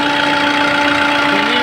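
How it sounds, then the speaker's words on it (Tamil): A 2013 Chevrolet Sail diesel car idles steadily with its air conditioning on, a loud, close, even engine hum with a low rhythmic knock, heard alone without talk. "இப்போ இன்ஜின் ஆனில் இருக்குது, ஏசியும் போட்டிருக்குது."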